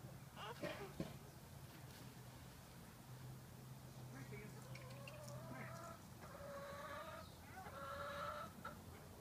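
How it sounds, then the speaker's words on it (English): Several chickens cluck and call close by, their repeated bursts overlapping, while people talk quietly in the background. "Daddy and Abigail feeding the chickens."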